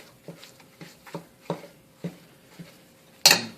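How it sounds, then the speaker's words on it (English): A spatula scrapes and taps repeatedly in a hot pan, breaking up ground beef with onions and spices, in an irregular series of soft knocks ending in a sharper, louder scrape. "with a spatula, I'm going to break up my ground beef and incorporate my spices into the ground beef and the onions"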